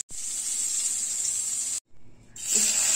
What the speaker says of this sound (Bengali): এবার এটাকে ভাজবো। হালকা করে ভেজে নিতে হবে